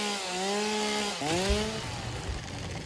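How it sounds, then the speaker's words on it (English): A chainsaw revs and bites in the game STS 2, its engine whine sliding up and down in pitch and dipping sharply for a moment before roaring again, loud and close with no talk over it. "free stuff to chop down here with the chainsaw"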